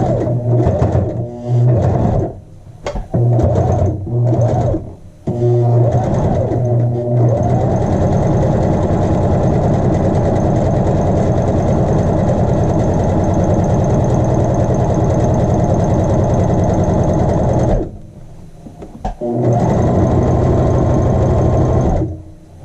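A sewing machine edgestitches the facing edge of a child's shirt, starting with short stuttering bursts, then running in a long steady loud hum, briefly stopping and resuming near the end.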